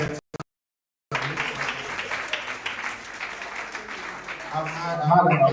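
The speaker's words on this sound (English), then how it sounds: "we need to clap better." Audience clapping at the close of a parents and caregivers workshop on nutrition and IEP development, starting after a short silence, sustained and moderately loud, with a voice speaking near the end.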